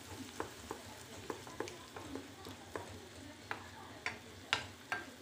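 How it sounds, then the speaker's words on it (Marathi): Garlic ginger paste frying in oil in a pan for an omelette curry, a low steady sizzle broken by regular spoon scrapes and taps, close and fairly quiet. "त्यामध्ये आपण लसूण अद्रक पेस्ट टाकूया 1 चम्मच आणि त्याला सुद्धा परतून घ्यायचं"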